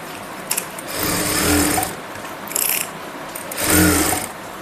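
A sewing machine stitches a pocket onto a ladies' kurti in three close bursts of rapid whirring, separated by short pauses.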